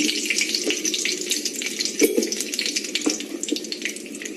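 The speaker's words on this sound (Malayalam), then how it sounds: "ഇപ്പൊ നമ്മുടെ എണ്ണ ഏകദേശം ചൂടായി വന്നിട്ടുണ്ട്. നമുക്ക് അതിലേക്ക് ഇനി കുറച്ച് കടുക് പൊട്ടിക്കാം." Mustard seeds popping and crackling in hot oil, a steady close-up sizzle with scattered sharp pops throughout.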